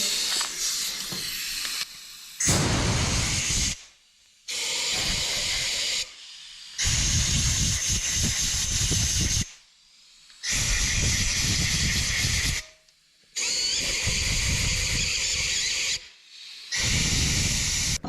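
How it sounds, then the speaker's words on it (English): Loud bursts of compressed air hissing through engine oil and bolt holes in repeated blasts of one to three seconds, separated by brief pauses, close and harsh. "Now I'm just going to blow some air through all of the oil holes and all of the bolt holes too."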